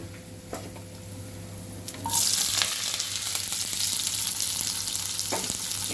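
Mustard seeds and urad dal fry in sesame oil and ghee for Tamil carrot rava upma, a soft stir and background hum giving way to a loud, steady sizzle with scattered pops after a couple of seconds.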